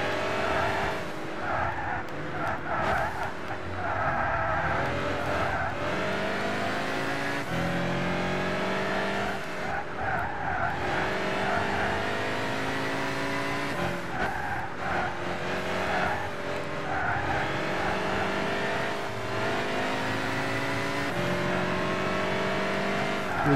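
Race car in the driving game Gran Turismo 6, a steady loud engine roar with repeated revving and shifting, tire squeals and skids, and other cars passing, continuous throughout.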